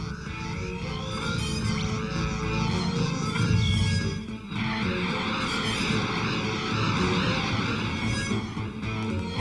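In an animated series, fighter squadrons take off in a loud, continuous roar of jet aircraft engines that swells and dips, with layered whooshing and no talking.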